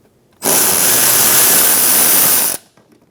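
A power tool with a T27 bit spins out a bolt from the inner fender liner of a 2012–2018 Ford Focus, one close, loud, steady high-pitched whirring burst lasting about two seconds, then silence.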